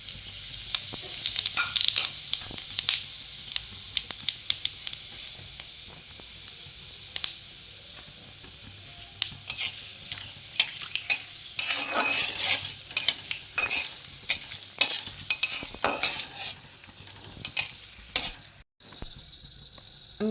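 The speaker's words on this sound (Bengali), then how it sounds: "তেলটা গরম হয়ে গেছে, আমি এখানে মশলাগুলো ফোড়ন দেব।" Whole spices, dried red chilli and bay leaf crackle and sizzle in hot oil for a chicken bhuna, with soft spattering bursts and occasional stirring clinks against the pan, no talking.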